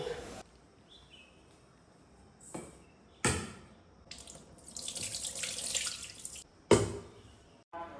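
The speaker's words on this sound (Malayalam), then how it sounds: "ബിരിയാണി വയ്ക്കാനുള്ള അരി ഞാൻ അളന്നെടുത്തിട്ട് വെള്ളത്തിൽ കഴുകിയിട്ട് കുതിരാൻ വെക്കുകയാണ്" Rice for biryani being washed in water at a sink, with bursts of running tap water and splashing that come and go and grow louder toward the end. No talking.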